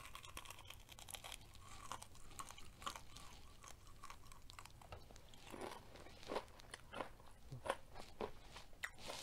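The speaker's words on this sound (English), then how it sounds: "Okay, I'll try our chicken." Crisp bites and crunchy chewing of homemade fried chicken, close and quiet, with repeated crackling crunches across the whole stretch and no talking.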